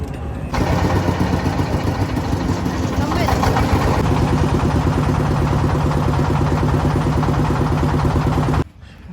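A river boat's motor at Bholaganj starts up abruptly and runs with a loud, steady throbbing rumble, holding an even pulsing tone for several seconds before cutting off sharply.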